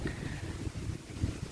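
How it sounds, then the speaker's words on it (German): Strong stormy wind on a hilltop rushes and buffets the microphone in a continuous low roar, close and unbroken, with no voices. "Es ist ganz schön stürmisch und windig hier oben"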